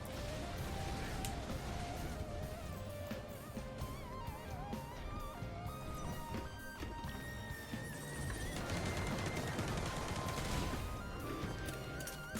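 A relentless barrage of explosions from the video game Risk of Rain 2 forms a dense, continuous wall of crashing, crackling blasts for about twelve seconds, fairly quiet overall and with no one talking.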